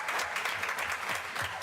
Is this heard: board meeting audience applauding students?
yes